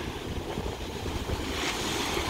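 Ocean surf on the Outer Banks rolls and crashes continuously against the beach, a broad steady roar of breaking waves with wind buffeting the microphone throughout.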